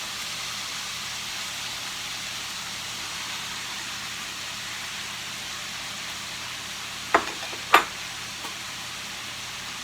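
Green onions and vegetables sizzle steadily in a pan with pork belly, a continuous hiss of frying like light rain, broken by a couple of sharp clinks near the end.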